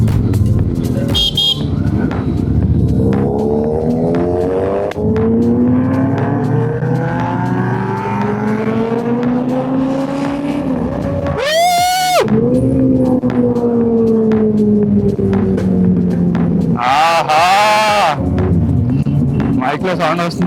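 Superbike engines on a Sunday breakfast group ride rev loudly and continuously, with rising and falling engine pitch as bikes accelerate, and sharp horn-like blasts around the middle and near the end. The engines dominate the whole stretch, with riders talking underneath.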